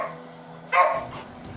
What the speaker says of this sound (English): Oh, my dog barking